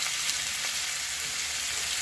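Fish frying in a pan, a steady dense sizzle throughout, close and continuous with no talking, cooked for a pre-dawn Ramadan meal.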